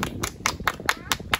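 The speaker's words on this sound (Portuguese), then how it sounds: "Mais palmas para todas as pessoas que estavam trabalhando." Applause for workers at a gathering celebrating the arrest of Lázaro, heard as rhythmic bursts of clapping about every quarter second over a murmuring crowd.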